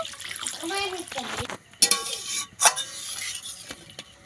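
Water pours into a pan of potato and tomato fish curry with cauliflower, a brief splashing burst under nearby kitchen clatter and a little background voice.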